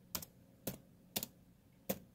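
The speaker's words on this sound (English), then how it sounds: "We need to type in there, we need to type SLMGR" Four separate key presses on a computer keyboard, spaced unevenly and heard up close, as a Windows activation command is entered; no voices are present.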